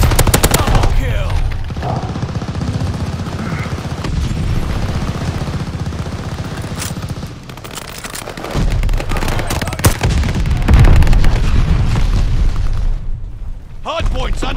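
Gunfire and explosions in a multiplayer shooter game fill the mix with continuous loud booms and rapid automatic fire, while people talk over the dense, nearly unbroken barrage.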